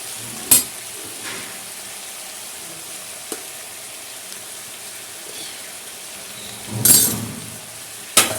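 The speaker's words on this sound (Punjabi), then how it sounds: "ਪਹਿਲਾਂ ਸਬਜ਼ੀਆਂ ਨੂੰ ਸਾਰੀਆਂ ਨੂੰ ਨਾ ਆਪਾਂ ਭੁੰਨ ਲੈਣੇ ਆ ਹਲਕਾ ਜਿਹਾ ਇਹਦੇ ਵਿੱਚ ਨਮਕ ਪਾ ਦਿੰਨੇ ਆ" Vegetables sizzle softly in a pan while roasting with salt, a steady faint frying hiss broken by a few sharp stirring clinks.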